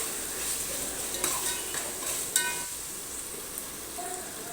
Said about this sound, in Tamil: அந்த இஞ்சி பூண்டு பேஸ்ட்டோட அந்த பச்சை ஸ்மெல் போகிற வரைக்கும் நல்லா வதக்கணும்